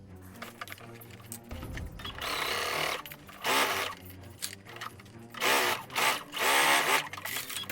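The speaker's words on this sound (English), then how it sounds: "now I'm just gonna sew this closed before adding something like a belt to it" Sewing machine stitching a dragon mask closed, running in several bursts of rapid mechanical whirring separated by brief pauses, close and fairly loud with no talking.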